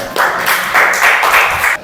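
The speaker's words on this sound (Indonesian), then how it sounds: "coba tepuk tangan dulu" A school class claps hands together in a lesson, a short burst of rhythmic group clapping in a few loud pulses lasting under two seconds, close and without talk.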